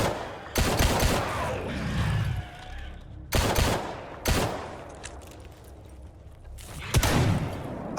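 Shotgun blasts from the video game S.T.A.L.K.E.R., three or four loud, close booms spaced a second or two apart, each with a short decaying tail and no talking over them.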